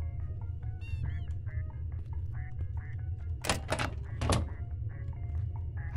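Ducks in the video game Obenseuer give a run of short nasal quacks at a steady pace over a low constant background hum, and a couple of louder thumps cut in partway through.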